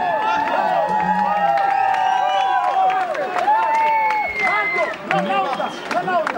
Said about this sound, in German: Und ein Applaus für Marco!